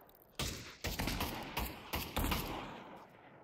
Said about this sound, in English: Is there not like a better machine gun that actually fucking fires like a machine gun?